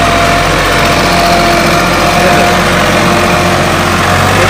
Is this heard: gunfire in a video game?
no